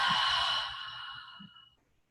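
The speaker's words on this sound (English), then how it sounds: "Big inhale. Cleansing exhale. Relax on that exhale." A long, audible exhale through the mouth during gentle restorative yoga breathing, a single airy release close up that fades steadily to silence over about two seconds.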